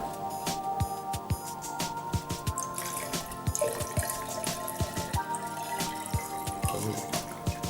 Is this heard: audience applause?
no